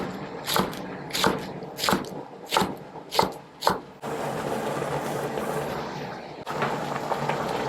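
Green onions roughly chopped on a cutting board, about seven quick knife thuds in a loose rhythm, close and crisp, followed by a steady low bubbling from a pot on the stove.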